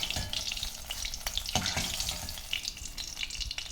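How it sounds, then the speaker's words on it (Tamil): Brinjal sautéing in hot oil for a Tamil ennai kathirikai kulambu, a continuous close sizzle and crackle with occasional stirring scrapes and no speech. "இந்த கத்திரிக்காய் பாருங்கள், எல்லா கத்திரிக்காயும் நல்லா வதங்கி வந்திருக்கு."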